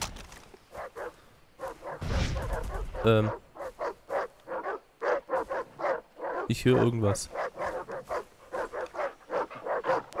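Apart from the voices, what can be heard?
dogs barking in video game Far Cry 3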